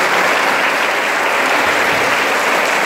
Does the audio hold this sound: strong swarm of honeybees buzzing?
no